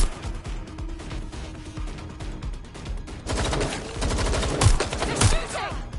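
Dense bursts of gunfire crackle in the video game Watch Dogs Legion, starting sparse and swelling into loud, rapid volleys with sharp individual shots near the end.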